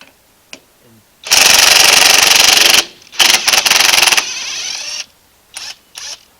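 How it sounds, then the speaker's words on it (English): An impact wrench hammers a lug nut off a lowboy trailer wheel during an electric brake install: a loud, close rattling burst of about a second and a half, then a choppy run of shorter bursts, and two brief blips at the end. "take the lug nut back off"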